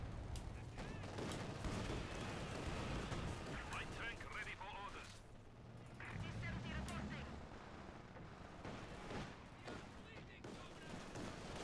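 Artillery barrage in a real-time strategy game, a dense stream of rapid gunfire and explosion bursts rolling on steadily, loud, with a commentator talking throughout.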